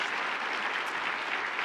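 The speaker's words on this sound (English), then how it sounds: "Give Zora Neale Hurston a round of applause." An audience at a higher-education award event breaks into a round of applause, a dense, loud, steady wash of clapping from a large crowd.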